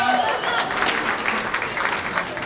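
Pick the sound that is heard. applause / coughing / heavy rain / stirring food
applause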